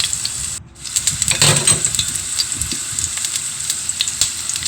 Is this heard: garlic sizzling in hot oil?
yes